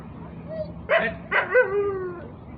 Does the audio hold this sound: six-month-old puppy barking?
yes